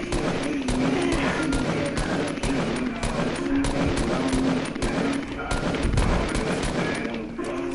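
Rapid bursts of assault rifle fire in an online shooter video game, sustained and loud with dense repeated shots, mixed with game effects and some background voices.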